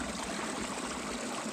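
Spring water flowing out from under a huge lava field along a mountain trail, a steady soft rushing trickle heard close and alone.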